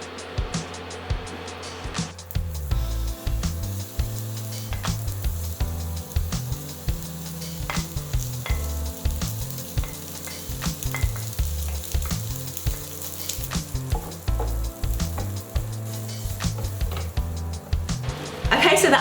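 Onions browning in a pan for a hamburger, a long continuous sizzle with frequent clicks and pops and occasional stirring, low rumbling hum underneath, and talk heard intermittently.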